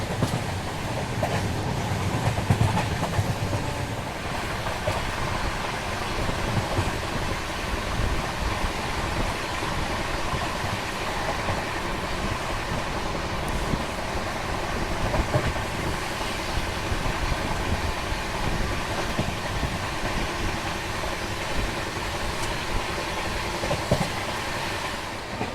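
The Jaipur Delhi Double Decker Express rolls along past Alwar, heard from inside as a continuous loud rumble with rhythmic rail clatter throughout, and no talking.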